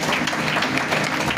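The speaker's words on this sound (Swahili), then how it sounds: "Pigeni makofi." Dense audience applause at a church gathering, loud and continuous with no gaps, the massed clapping filling the whole stretch.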